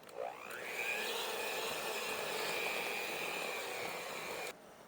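An electric mixer beats chocolate cake batter with cocoa. Its motor whines up to speed, holds a steady, fairly quiet whirring hum for several seconds, then cuts off abruptly.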